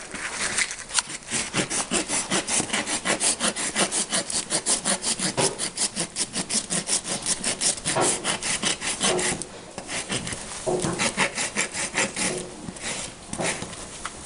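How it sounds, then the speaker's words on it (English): A barefoot farrier rasps a horse's hoof with steady back-and-forth strokes, a dense run of close, loud scraping rasps with a brief pause partway through. "I'm going to rasp it."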